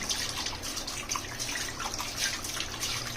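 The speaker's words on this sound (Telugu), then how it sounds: "వాటర్తో శుభ్రంగా 4-5 టైమ్స్ బాగా కడుక్కోవాలండి" Running water splashes and trickles steadily as fish is rinsed under a tap, close by with no voices.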